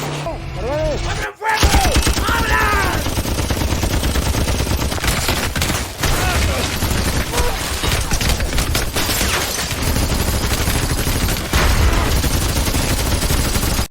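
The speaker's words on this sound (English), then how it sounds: "Then, Ramos's group was seen preparing automatic weapons." Automatic weapons fire in a movie battle scene, a loud sustained fusillade of rapid gunshots with booming impacts running nearly the whole time, a brief drop near the start, layered with dense battle noise.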